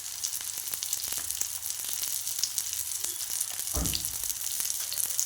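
Jalebi fish fry in oil on a dosa griddle, a steady bright crackling sizzle running throughout at close range, with scattered pops and a brief lower burst near the middle.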